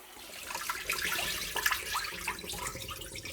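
Cold tap water running and splashing over raw rice being rinsed in a bowl, a steady close wash with small sloshing surges, no voices.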